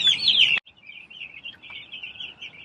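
Farm chickens chirp in high, thin peeps, one loud close burst at the start, then a continuous softer chorus of cheeping in a quiet space.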